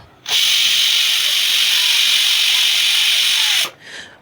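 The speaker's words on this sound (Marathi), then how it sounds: "आपण कुकरला 3 शिट्ट्या काढून घेऊयात." A pressure cooker cooking dal lets out a loud, continuous hissing jet of steam for about three seconds, then cuts off abruptly, with no speech.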